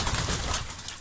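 A flock of about two hundred pigeons, including Kanat Postalar, Malatya and double-crested birds, coos softly in a loft, a steady low murmuring with faint rustling, nearby and moderately loud.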